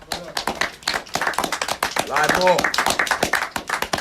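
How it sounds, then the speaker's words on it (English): Teammates clap together while celebrating a league win with a clean sheet, a patter of hand claps running through loud, overlapping conversation. "Big claps."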